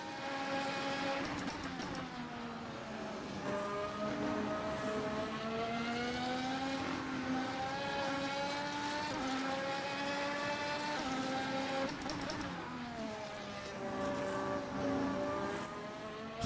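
A 2023 Formula 1 car engine in Assetto Corsa, heard from outside the car, screams loud and steady at high revs, rising and dipping between gear changes for the whole stretch.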